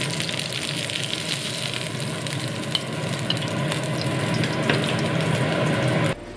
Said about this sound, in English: and brown the rack on all sides.